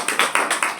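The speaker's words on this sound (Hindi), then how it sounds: "सर के लिए भी एक बार जोरदार ताली है" Applause at a group meeting: a quick burst of four or five distinct, fairly loud hand claps in loose rhythm, with no talking over them.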